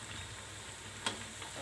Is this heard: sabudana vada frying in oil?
yes